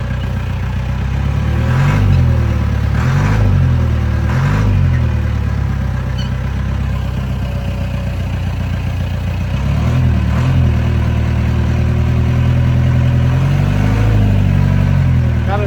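Diesel engine of an old Caterpillar 416 backhoe, low on hydraulic fluid, runs loud and steady under throttle, with periodic surges and revs every couple of seconds.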